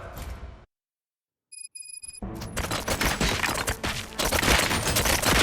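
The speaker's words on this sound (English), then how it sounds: "Gunshots? What's going on?" Rapid bursts of gunfire in the video game RoboCop: Rogue City rattle loudly after a brief silence and a few beeping tones, continuing in dense, heavy volleys.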